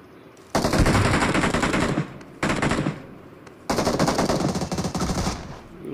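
Rapid automatic gunfire from the BGMI battle game, loud and close, in three sustained bursts separated by brief pauses.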